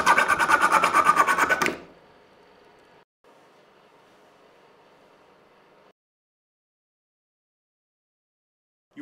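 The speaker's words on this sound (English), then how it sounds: "With the metal saw, you can cut through a nail, a screw, or a wire." Small metal saw blade of a Victorinox Swiss Army Knife cutting through a nail, screw or wire, a loud close rasping burst for under two seconds that drops to a faint low scraping, then silence.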